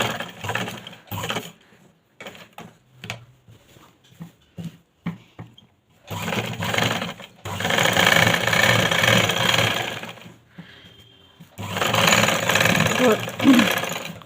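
Sewing machine stitching a piping strip onto the neckline of a suit, running in long loud continuous bursts with short pauses between, someone talking between the runs.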